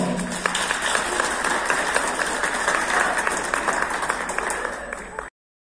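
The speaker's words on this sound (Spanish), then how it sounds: "Lo recibimos con fuertes aplausos." At a school Bicentennial Independence program, an audience gives sustained, dense applause for over five seconds, steady and fairly loud before cutting off abruptly.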